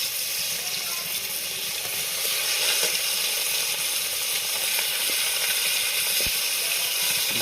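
Steady hiss and sizzle of hot oil as Bhola fish goes into the pan for a mustard curry, a continuous close, fairly loud frying noise with no talking.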